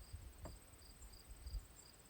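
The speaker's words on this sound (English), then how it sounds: "Listening to the crickets at night, no city noise." Faint, steady cricket chirps pulse in a regular rhythm at night in the countryside forest, over a quiet, low background rumble, with no voices.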